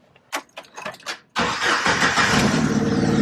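A Jeep engine cranks with a few rapid whirring turns of the starter, then catches and settles into a loud, steady idle close by.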